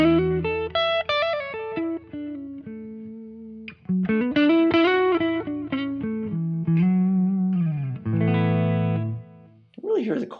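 Electric guitar played through a Quad Cortex Lone Star Clean preset into a 2x12 cabinet with tape delay, room reverb and compression, picking out clear sustained notes and chords up close, with a brief squeak at the end.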